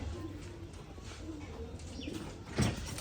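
Rajshahi Giribaz pigeons at a home loft, with soft cooing and faint bird chirps over steady ambient noise, plus a brief louder flutter or call near the end.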